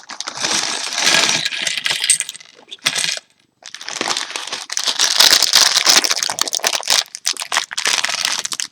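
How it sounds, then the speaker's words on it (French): A plastic bag holding the instruction booklet for a LEGO Ninjago Samurai X Cave Chaos set is torn open and handled, giving close, loud crinkling and rustling in several bursts with a short pause near the middle. "on va ouvrir le mode d'emploi, ou plutôt le sachet contenant le mode d'emploi."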